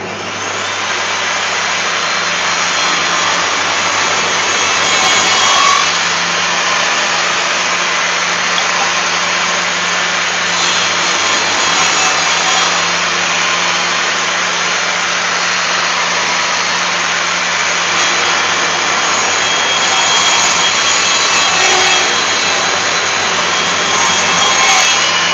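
A table saw fitted with a dado blade runs scrap wood through a fenced cut, producing a loud, steady machine roar and whine that holds evenly for about 25 seconds with no talking.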